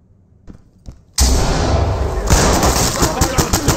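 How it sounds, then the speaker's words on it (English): A flashbang grenade in Ready Or Not goes off after a few quiet thuds, a sudden loud bang followed by a sustained high ringing and noisy aftermath. "Toss a flashbang."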